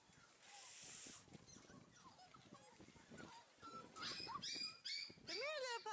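Five-week-old Dalmatian-type heeler puppies whimper and yip in short, high cries close by, mixed with occasional small barks while a person talks to them.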